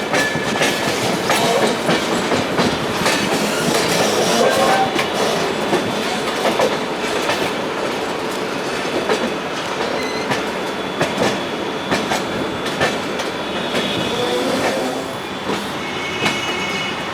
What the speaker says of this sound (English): Kanpur Shatabdi Express departed from New Delhi sharp at 3:50 pm